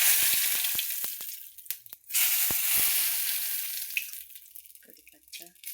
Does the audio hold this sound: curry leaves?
yes